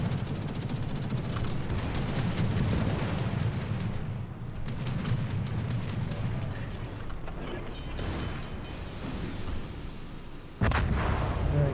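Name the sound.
battleship Nagato firing AP shells in World of Warships video game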